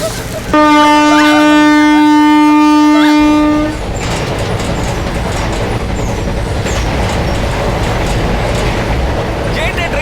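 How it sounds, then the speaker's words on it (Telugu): A passenger train sounds a long, loud horn blast for about three seconds, then keeps rumbling along the rails with steady clatter from the carriages, heard close. "ఏంటి ట్రైన్ ఆగలేదు?"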